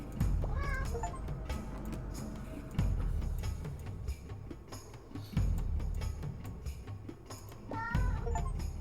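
Cat meows from the video game 100 Cats: Africa, Aztec, and Ocean, several short chirpy mews spread across the clip over a steady game background with occasional soft clicks.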